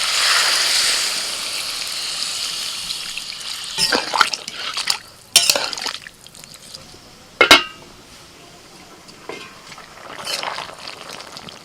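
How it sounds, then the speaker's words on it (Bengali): Water splashes and trickles into a hot pan of cauliflower and shrimp paste amid a steady sizzle, with a few sharp bursts of pouring and stirring. "এবার জল দিয়ে দিচ্ছি"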